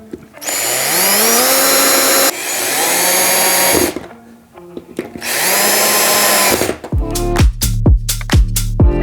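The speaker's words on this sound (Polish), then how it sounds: "Nawiercam delikatnie, żeby później łatwiej było trafić wkrętem." A power drill bores light pilot holes for screws in a wardrobe panel, loud and close, running in three long whining bursts that rise in pitch as the motor speeds up, then a series of short clattering knocks.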